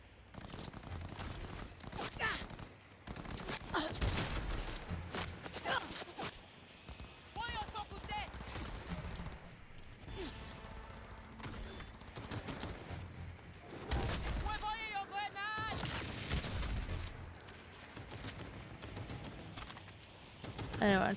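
Rapid gunfire bursts and impacts from a Cyberpunk 2077 firefight, dense and recurring throughout, layered with in-game voices and effects.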